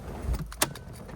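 Keys to a 2005 Dodge Viper Mamba Edition convertible jingle briefly, ending in a sharp metallic click as one slides into the ignition.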